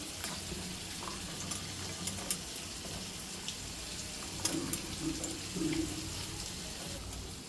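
Fish pieces, small bommidi, being washed in a bowl of water: soft sloshing and splashing with a few louder swirls and clinks, fairly quiet and close, with faint background hiss.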